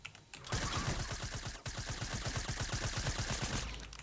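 Rapid automatic gunfire from the video game Fortnite rattles out in a dense, steady burst lasting several seconds, loud and continuous with a brief break partway through and no talking.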